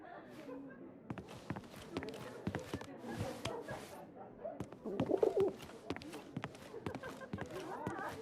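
A pigeon coos softly in 11-11: Memories Retold, under and between people speaking, with scattered light tapping footsteps around it.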